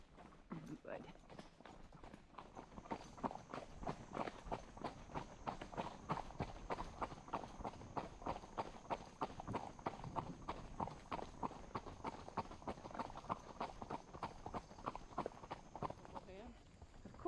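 Horse hooves clip-clopping steadily on an endurance ride, a close, even walking rhythm of many hoofbeats continuing throughout with no break.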